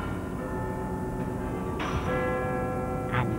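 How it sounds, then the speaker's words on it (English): A clock tower bell whose chime is broadcast on radio worldwide strikes twice over a steady mechanical hum, each ringing stroke leaving a long sustained tone. "This clock has a bell that is heard on the radio all over the world."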